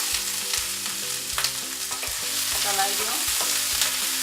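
Onion sizzles steadily in a hot pan on medium-low heat while being stirred, a loud, close, continuous frying hiss with light scraping, over background music. The onion is cooking for a tomato and green pea pickle.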